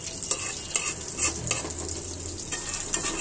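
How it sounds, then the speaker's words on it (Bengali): Chicken meat fries in a pan over low heat, a close, steady sizzle broken by repeated sharp scrapes of stirring against the metal. "এভাবে মুরগির মাংস ভাজা করে খেলে এটা আপনার স্বাস্থ্যকে হেলদি করে"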